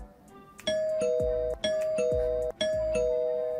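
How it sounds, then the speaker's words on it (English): A doorbell chimes three times in succession, each a clear ding-dong with ringing tones, close and loud. "So you think in post you guys can add a doorbell?"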